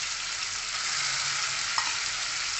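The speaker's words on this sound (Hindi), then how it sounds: "अब हम कढ़ाई में तेल डालेंगे, इसको फ्राई करेंगे।" Paneer fries in hot oil in a kadhai, a dense, steady hiss and sizzle with a faint clink of stirring partway through, no talking.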